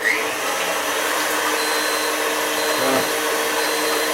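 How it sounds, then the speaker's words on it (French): An electric stand mixer whips egg whites for iced nougat, giving a steady, loud motor whir with a constant, even tone and no talking over it. "Je vais démarrer mon mélangeur."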